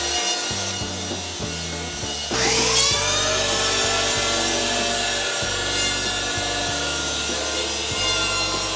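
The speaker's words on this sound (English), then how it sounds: "Jessie grabbed the planer and started taking some foam out of the top" An electric planer cutting foam off the top of a surfboard blank, a steady motor whine broken by repeated rasping shaving passes, close and loud with no talking.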